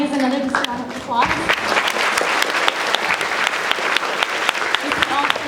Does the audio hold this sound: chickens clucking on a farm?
no